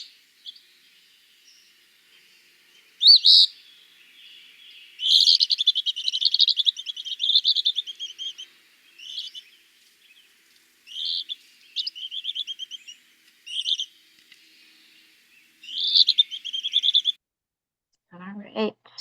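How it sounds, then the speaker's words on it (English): Eastern phoebe display calls at a nest site: several bursts of high, buzzy chirping phrases separated by silent gaps, clear and fairly close, with a brief low voice right at the end. "this is a display call at a nest site"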